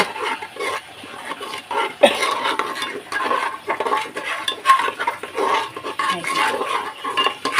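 Spice paste for beef curry fries in a pan, a soft, close sizzle punctuated by spoon-on-pot scraping and clinks as it is stirred.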